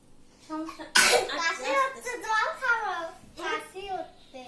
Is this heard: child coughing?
yes